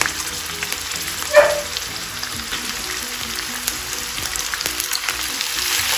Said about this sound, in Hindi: अब इसको हम अच्छे से फ्राई करेंगे।